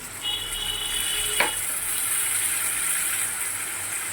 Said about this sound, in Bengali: এবারে আমি এতে একটু রসুন বাটা, আদা বাটা দেবো।